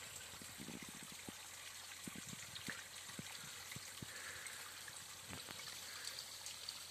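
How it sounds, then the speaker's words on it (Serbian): Elvirin waterfall on Fruška gora near Irig, a small year-round forest cascade, gives a steady soft rush of falling water with scattered low knocks and thumps over it. "ovo jedan od živopisnijih vodopada"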